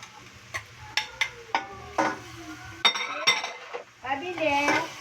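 Squid tipped into a pan with garlic and ginger for coconut-milk squid, followed by clattering metal utensil scrapes and stirring knocks against the pan, a few sharp hits then busier clinking, with faint sizzling underneath.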